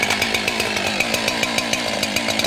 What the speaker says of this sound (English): Make sure your saw is firmly supported with the chain brake on before you start it.